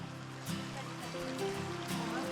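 A mountain stream runs and trickles steadily while feet are washed in it, with soft splashes and people's voices talking over the flowing water.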